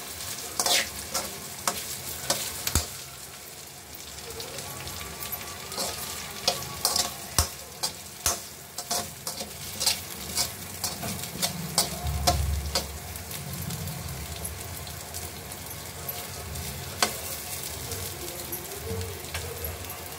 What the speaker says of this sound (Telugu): అరటికాయ ఫ్రై అయితే బాగా వేగిపోయింది. శనగగింజల పొడి వేస్తున్నానండి